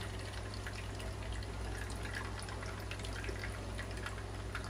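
Water from instant Maggi noodles pours out through a strainer, a steady rushing, gushing flow that holds even and fairly loud the whole time with no pauses and no voices.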